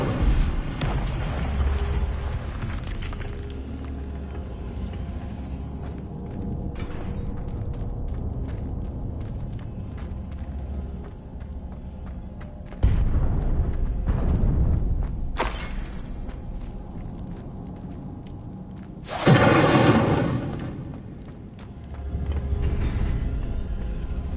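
Several fire spells cast in Hogwarts Legacy burst out as loud whooshing booms, one near the middle and a stronger one later, set against a steady rumbling background.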